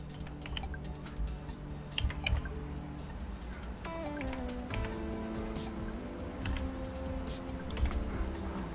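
A number being entered on a computer keyboard while logging into a National Pension System account: quick, light key clicks tap out irregularly across the stretch, mixed with steady tonal background sounds and no talking.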